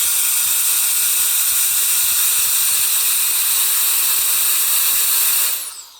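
A K&F Concept BS500M electric air duster drawing air out of a seal bag gives a loud, steady, close hissing whoosh that runs throughout and cuts off abruptly near the end, no speech.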